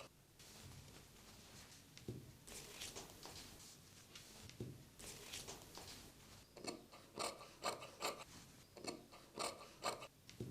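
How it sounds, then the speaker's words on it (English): Scissors cutting and trimming an old shirt's fabric make close, soft snipping and rustling, becoming a run of rhythmic crisp cuts toward the end. "Cut off sleeves and trim shirt into a rectangle."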